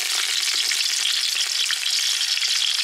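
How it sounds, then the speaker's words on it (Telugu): Biryani spices frying in hot oil in a pan, a dense, steady, loud hiss and crackle that continues without a break and has no voices over it. "ఇవన్నీ బిర్యానీ దినుసులండి. వీటిని కొంచెం వేగనిద్దాము."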